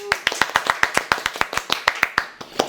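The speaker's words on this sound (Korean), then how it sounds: "박수!" Audience clapping greets a guest being introduced on a Korean online-business talk show, a steady run of crisp, evenly spaced claps from a small group, close and fairly loud, with no talk over it.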